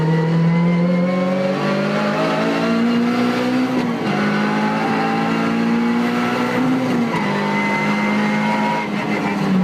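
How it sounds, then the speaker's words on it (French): Race car engine screaming at high revs through a straight-cut dog-clutch gearbox without synchros, with two quick clutchless upshifts where the pitch briefly drops before climbing again; loud and close throughout. "il existe encore de nos jours des boîtes de vitesse à dentelure droite dépourvues de baladeurs et de synchro"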